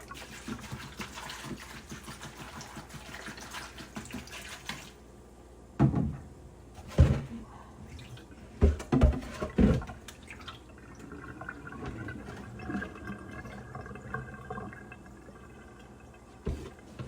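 Water runs from a tap over grapes being rinsed, a steady hiss for several seconds, followed by scattered drips, knocks and clunks of handling in a quiet kitchen.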